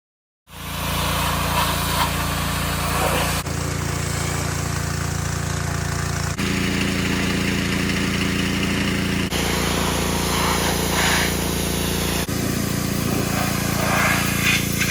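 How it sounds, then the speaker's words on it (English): Pressure washer running steadily while cleaning a 1987 Pontiac Firebird pulled from the woods after sitting 22 years; a loud, constant engine drone and spray hiss continue without pause, with a few abrupt shifts in tone. "let's give her a pressure washing and see what we got"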